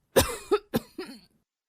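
A sick man coughs four times in close succession, each burst harsh, near and loud, with short gaps between them and no talking.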